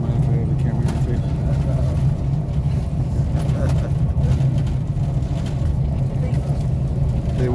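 A bus engine rumbles steadily throughout a ride, a low, constant drone with road noise and rattles, while people talk over it.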